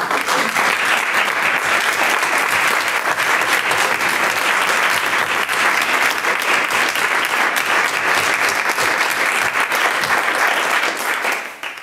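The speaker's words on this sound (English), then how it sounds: "why don't we give them that round of applause" A dense, sustained round of applause from a theater discussion audience, loud and even throughout before tapering off at the very end, with no speech over it.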